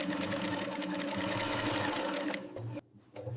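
An industrial sewing machine in a jacket factory runs steadily, sewing a seam with a loud continuous mechanical whir, close by, then briefly cuts out and restarts near the end.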